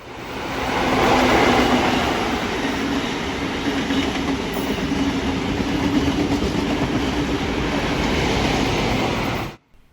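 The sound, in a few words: XPT passenger train passing, Sydney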